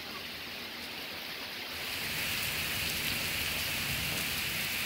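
Steady rain falls outdoors in summer, a soft, even hiss of drops on surfaces that swells slightly louder partway through and continues without pause.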